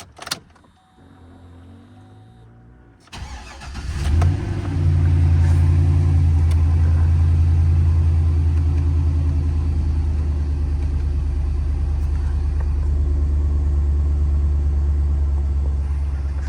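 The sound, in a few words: car engine cold start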